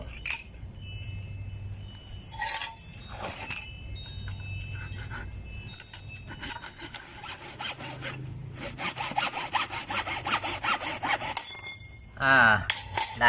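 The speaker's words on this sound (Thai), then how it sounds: "ฉะนั้นผมจะตัด ตัดสี่นิ้วนะครับ ตัดลงไปสี่นิ้ว" A hand saw cuts through a part four inches down during a vehicle repair, rapid rasping strokes in rhythmic bursts with brief pauses, close and fairly loud, with a sharp scrape near the end.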